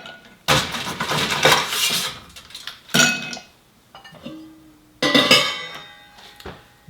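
Ice clatters and clinks in a glass while a Vieux Carre cocktail is chilled, coming in three loud bursts separated by quieter gaps of faint clinking.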